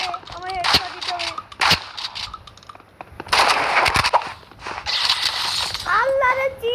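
Rapid gunfire bursts from the Roblox game Rivals, loud and close, cracking in clusters with mechanical clatter between shots over about seven seconds.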